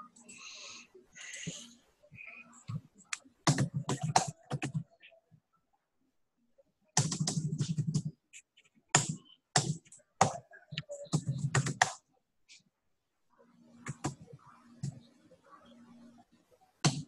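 Bursts of close, crisp tapping on a computer keyboard come in short clusters separated by silences, with people speaking in between.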